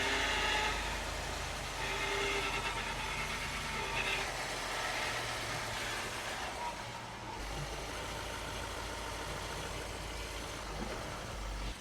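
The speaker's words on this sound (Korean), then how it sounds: "앞쪽 디퍼런셜에서 아예 그냥 슥슥 막 달리는 소리" Continuous loud rumbling drone of a Range Rover SDV8 driving with a faulty front differential, a steady low whirring road and drivetrain noise filling the whole stretch with no talk.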